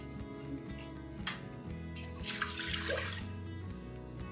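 A cup of water is poured into a soup pot for an easy vegetable soup, a brief splashing pour heard near the mic with no talking.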